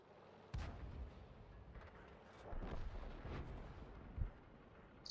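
The Lef 105B2 artillery gun in a video game fires shells: a few deep booms at irregular intervals, heavy but fairly muffled, with rumbling tails between them.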